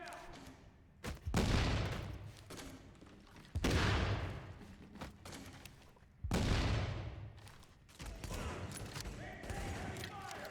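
Heavy gunfire from The Division video game erupts in repeated loud bursts and booms, each volley decaying before the next, with scattered voices in the background.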